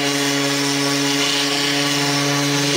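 Steady, loud drone of a Parkside Performance 12V cordless orbital sander (PAESP 12-Li A1) sanding an edge at full speed, with a constant pitched whine and broadband grinding noise, running continuously without pause.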